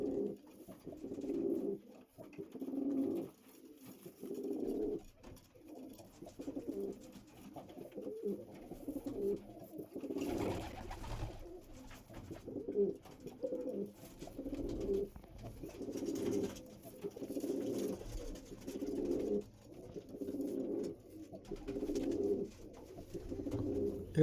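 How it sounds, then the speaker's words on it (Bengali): Andhra breeding pigeons in a loft coo in soft, rhythmic, repeated bursts throughout. The calls are close and fairly quiet, with no talk. "এই পায়রাগুলো আপনারা শখ করুন।"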